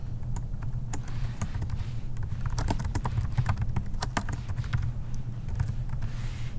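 Steady typing on a computer keyboard, rapid clicky keystrokes close by over a low background hum, no talking.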